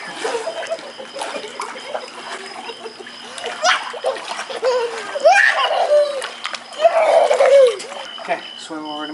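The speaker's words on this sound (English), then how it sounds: "You are so such a good kick splasher." Child kicking and splashing in a swimming pool, with irregular splashes throughout under an adult's nearby talk and a voice and giggles.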